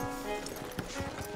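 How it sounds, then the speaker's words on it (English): Horse hooves clip-clop at a steady walking rhythm in Red Dead Redemption 2, close and moderately loud over a faint ambient game background, with no voices. "Making sure my horse isn't riding off of a cliff or anything."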